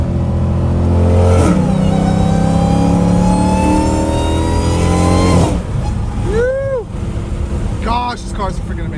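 A Dodge Challenger Hellcat Redeye with a catless exhaust roars loudly up through its gears on a freeway, the engine pitch climbing steadily. It then drops off and crackles as the throttle lifts. A voice talks over part of it.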